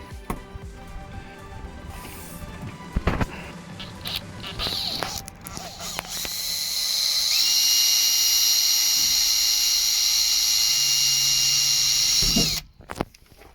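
A cordless drill drives screws into a campervan fittings, whirring steadily for several seconds at close range after scattered clunks and handling noise, then stopping abruptly.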